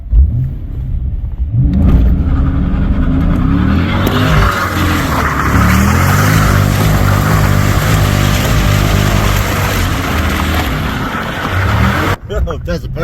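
A 6-litre manual vehicle roars at high revs through a burnout with screeching tire squeal, sustained and loud, close by, then cuts off abruptly near the end.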